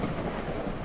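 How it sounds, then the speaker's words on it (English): Thunderstorm weather in the Legend of Khiimori horse-taming video game: a dense, steady roar of rain and rumbling thunder fills the whole moment, loud and continuous with no clear breaks. "the storms in this game, they're a little bit stronger now"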